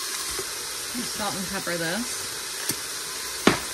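Ground beef and half an onion sizzling in an Instant Pot, a steady hissing fry throughout with a few clinks, while a person talks briefly over it.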